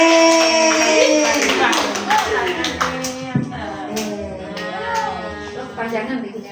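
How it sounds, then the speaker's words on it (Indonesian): Young children at a first-day-of-school gathering clap their hands in a loose, uneven burst under cheering and chatter, with an adult voice and kids' voices talking over the patter. "Tepuk tangan"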